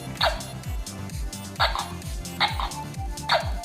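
A small speaker inside a toy baby doll's bottle gives short electronic burps, four in a row at a steady interval, over a looping tinny electronic tone pattern, fairly close and moderately loud.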